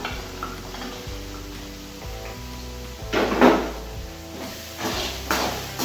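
Ginger and garlic sauté in a pan for a Tamil-style chicken gravy, giving a low simmering sizzle with a couple of louder bursts of stirring and utensil scraping.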